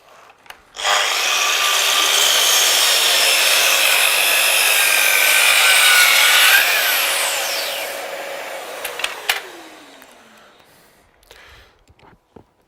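Festool Kapex KS60 mitre saw making a compound angle cut in wood: a sharp motor start, a loud steady high whine as the blade cuts through, then a falling spin-down with a few clicks and knocks afterward.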